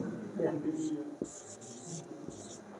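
Marker or chalk squeaks and scratches across a board in short strokes at close range, mixed with someone talking in Hindi.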